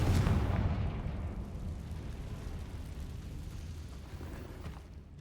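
Confringo fire spell blast in the Hogwarts Legacy video game: a deep, loud explosive boom at the start that trails off into a long rumbling decay, with no voices over it.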